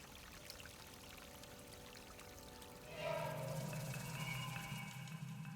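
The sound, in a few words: water pouring into a hole in Alone in the Dark video game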